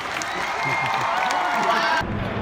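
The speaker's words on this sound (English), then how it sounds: "can we make a huge round of applause for Patrick Starr?" Audience at a VidCon London stage event cheers and applauds, a dense steady roar of clapping and whoops that cuts off abruptly near the end.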